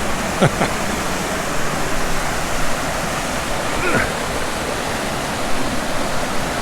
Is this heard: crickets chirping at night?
no